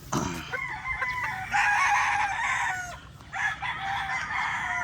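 A rooster crows nearby, two long drawn-out calls with a short pause between, loud and clear over faint background noise.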